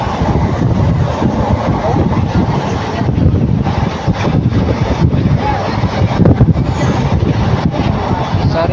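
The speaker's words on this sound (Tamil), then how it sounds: "வண்டி திண்டுக்கல்ல இருந்து பறக்குது பாருங்கள் மதுரைக்கு." A passenger train runs at speed between Dindigul and Madurai on the Erode to Madurai route. A steady, loud rumbling roar with wind buffeting continues throughout without a break.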